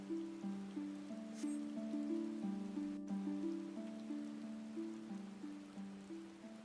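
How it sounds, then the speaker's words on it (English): Rain falls steadily in the Ruby Sea area of the video game Final Fantasy XIV: Stormblood. A soft, continuous hiss sits under a gentle stepping melody of game music, and the whole scene is quiet. "It's all rainy and stuff."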